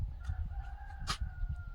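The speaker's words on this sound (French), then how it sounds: "voilà le coq qui chante." A rooster crows once near a calm campsite in the Slovak countryside, a single bright call standing out over low outdoor rumble and faint chirps, with no talk.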